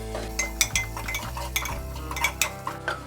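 Masala with cumin-coriander powder and fried onion is stirred in a pan for a quick peas-and-corn rice dish, a spoon scraping and clinking against the metal in irregular knocks over a faint low hum.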